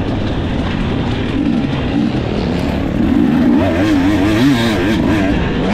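Dirt bike engine racing through a hare scramble course at Timber Mountain, loud and close with steady throttle and shifting revving pitch, continuous throughout with no talk.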